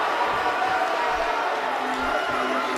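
Wrestling crowd at the Tampa Bay Center: a dense, steady roar of cheering spectators fills the arena while a commentator talks over it.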